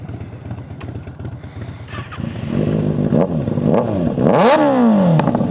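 A Kawasaki ZX6R sport motorcycle engine revs close by in rising and falling bursts, the pitch sweeping up sharply near the end over a steady idle.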